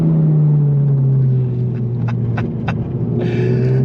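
A Honda Civic Type R driven hard on a track gives a loud, close engine drone whose pitch sweeps steadily downward under braking, with a few clicks and a brief rush of noise near the end.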